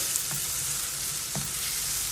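Chicken pieces fry in a pan with freshly ground ginger garlic paste until browned. A steady, close hiss of sizzling oil runs throughout, with a couple of soft stirring knocks and no talking.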